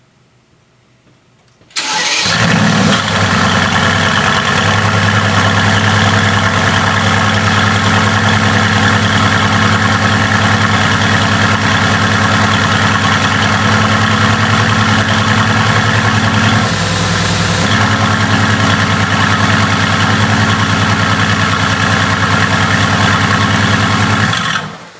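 A Mercedes-AMG GT S V8 cold starts with a loud, sudden bark after near silence, then settles into a steady, rumbling high idle that stays loud and close, with a brief change in tone partway through.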